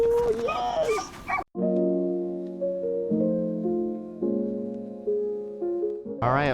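A sled dog, petted after a dog sled ride in Skagway, Alaska, gives drawn-out whining whimpers in wavering tones. Each one is close and clear and follows a short higher yip at the start.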